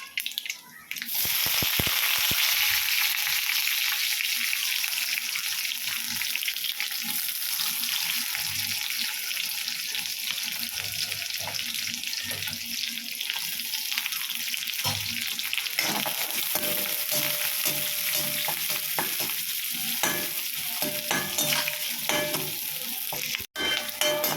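Continuous loud sizzling of onions frying with mustard seeds and curry leaves in a hot pan, with occasional stirring and scraping throughout.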